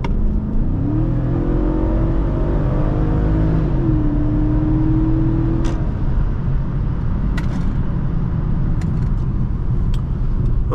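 A 2008 Infiniti M45 sedan accelerates hard from a stop to 60 mph on a hot day, heard from the cabin with the engine note climbing through gear changes before settling into loud road and wind rumble, with no talking.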